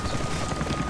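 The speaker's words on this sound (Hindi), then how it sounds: "अभी मुझे हेलीकॉप्टर की भी आवाज आ रही है." Helicopter in the video game Rise of the Tomb Raider, a steady low rotor rumble with faint rhythmic chopping filling the whole second at moderate loudness, with no talk over it.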